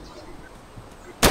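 A single loud gunshot bursts out at the very end after a second of low outdoor background, abrupt and close.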